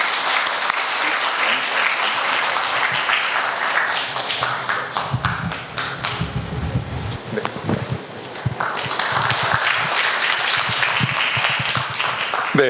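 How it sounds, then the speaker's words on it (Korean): Audience applause welcoming a researcher to the stage at a Korean security forum lecture, a sustained dense round of clapping from a large seated crowd that swells, dips briefly midway, then continues loud to the end. "고 박사를 큰 박수로 맞이해 주시기 바랍니다."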